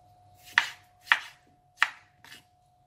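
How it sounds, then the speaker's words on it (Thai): About two tomatoes sliced with a knife on a cutting board, four distinct crisp chops in an even rhythm, close and clear with no talking. "แล้วหั่นเลยค่ะ"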